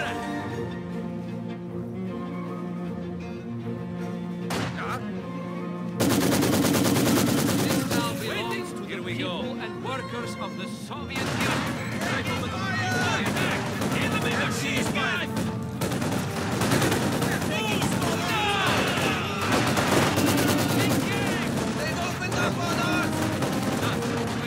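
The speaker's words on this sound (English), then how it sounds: "Machine gun." Company of Heroes 2 battle between Soviet and German forces: long stretches of rapid machine gun bursts and overlapping gunfire, loud and dense, with a quieter opening before the firing erupts and voices in the mix.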